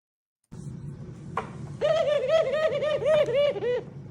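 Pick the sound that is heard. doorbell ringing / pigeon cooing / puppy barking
pigeon cooing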